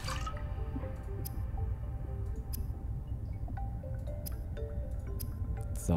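Filtered water is crafted in Subnautica Below Zero, a run of small liquid drips, squishes and ticks scattered over a low, continuous ambient hum, with no voices.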